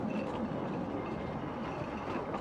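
A 1950s-vintage narrow gauge locomotive running steadily, a continuous dense rumble with a mechanical rattle throughout, close and fairly loud with no voices.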